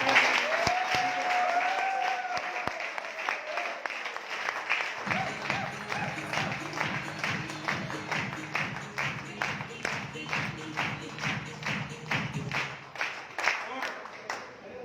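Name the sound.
audience applause at seminar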